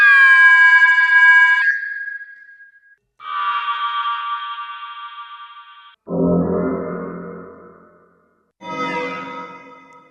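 A synthetic sound design sample is heard dry and then with reverb added, in four separate tonal bursts. Each burst is loud, sustained and held for about two seconds, then trails off into a washy tail, with a brief silence between some of them.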